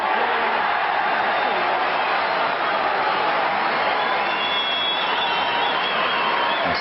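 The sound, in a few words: audience applause and roar at snooker match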